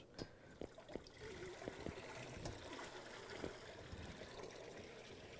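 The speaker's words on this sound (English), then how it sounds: "I got clear water coming out, so my rinse is good" Clear rinse water runs out of the gate of a B12 water ice machine in a quiet, steady trickle, with a few soft clicks and taps near the start.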